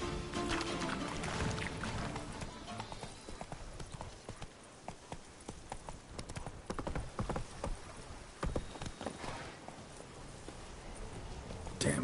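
Roach, Geralt's horse in The Witcher 3: Wild Hunt Blood and Wine, gallops in a steady, close clip-clop of hooves that carries on throughout, with game sounds mixed in around it.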